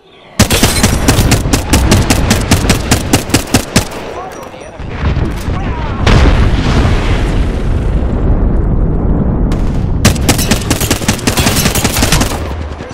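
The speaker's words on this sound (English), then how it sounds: "We got an airstrike coming down." Airstrike explosions and rapid bursts of gunfire in Apex Legends, loud and close, booming and crackling in dense rolling volleys that pause briefly before another heavy flurry.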